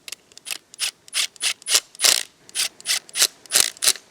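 A ratchet drives bolts into a new DMTL pump for an E53 BMW X5, cutting fresh threads: a steady, close run of crisp clicking strokes, about a dozen in four seconds, with no talk.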